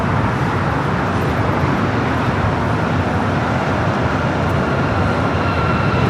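An American Boeing 787-9 Dreamliner arriving at LAX from London Heathrow on the south side, heard as a continuous broad rumbling roar with distant traffic-like wash, steady and fairly loud, no talking.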